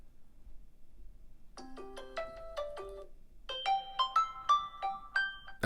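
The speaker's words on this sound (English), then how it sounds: "That's my ringtone right there." A OnePlus Open phone plays its ringtone, a bright melodic run of clear synthesized tones that starts after a quiet pause and climbs into a second, louder phrase, heard alone without talk.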